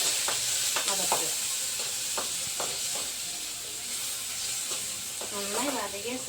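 Shallots and tomatoes sautéing in a pan for a tapioca curry, a steady sizzling hiss throughout with intermittent stirring clinks and scrapes of a spoon, close by.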